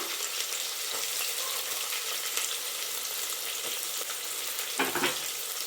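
Finely chopped onion fries in oil alongside capsicum for a brinjal gojju, a continuous crackling sizzle with a scrape of stirring near the end, no talking.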